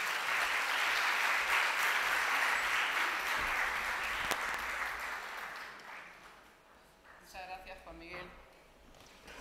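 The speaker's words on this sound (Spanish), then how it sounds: "Con nosotros la vamos a recibir con un aplauso" An audience gives sustained applause to welcome someone speaker at a spiritist conference, dense clapping that fades after several seconds before a voice begins to speak.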